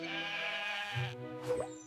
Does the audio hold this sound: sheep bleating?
yes